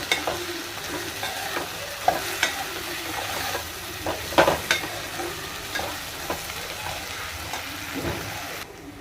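Lemons being stirred into a sizzling curry mixture in a pan, a continuous frying hiss broken by repeated spoon scrapes and soft clatter, close and steady throughout.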